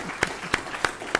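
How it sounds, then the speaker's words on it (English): Four sharp, evenly spaced claps ring out in a steady rhythm at a university memorial lecture, each close and distinct, with a quiet room in between. "Another round of applause."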